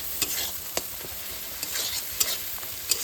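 Masala stir-fried in a pan, a continuous close sizzle punctuated by sharp spoon or spatula scrapes every second or so, with no talking.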